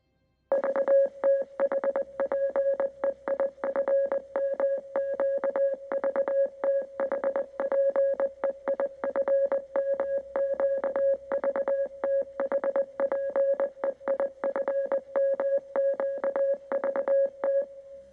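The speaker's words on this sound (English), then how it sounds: "Beeps keep playing in the background." Electronic beeps repeat for a long stretch in uneven short and long pulses at a steady pitch, like a coded signal, with no voices.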